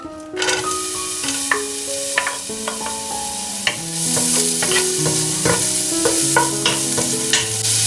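Onions fry in hot olive oil in a heated pan for borscht, giving a continuous crackling sizzle with occasional stirring clatter, under a melodic musical backing.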